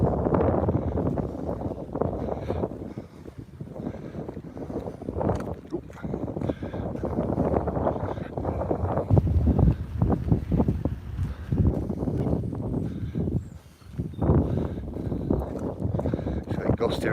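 Gusty wind buffets the microphone on an open hillside with a pathway, loud rumbling surges rising and falling in uneven waves throughout, with no other clear sounds above it.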